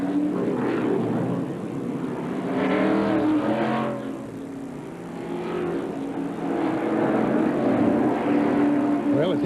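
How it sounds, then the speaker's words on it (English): A Chevrolet stock car in a 1997 NASCAR Southern 500 pulls away from pit road, its engine a loud, sustained roar that swells and fades, with race announcers talking over it. "He puts in his gear and pulls away."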